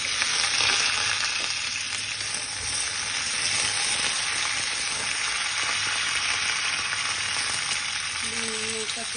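Pumpkin, beans and lentil dumplings fry in a pan for a vegetarian dish, giving a steady, close, continuous sizzle with occasional stirring scrapes throughout.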